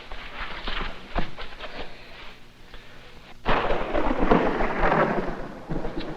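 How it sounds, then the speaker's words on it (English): Thunder rolls through a lightning storm, a sudden loud crack followed by a long, heavy rumble over steady rain, with softer rumbling before it. "Lightning storms are always scary."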